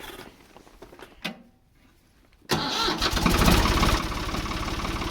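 A tractor engine cranks briefly, goes quiet, then turns over and catches, settling into a loud, steady idle close by.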